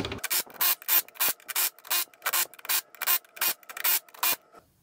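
Impact wrench driving axle bolts during a junkyard E-locker swap in a Super Duty rear axle, heard as about a dozen short, evenly spaced loud bursts, close and alone.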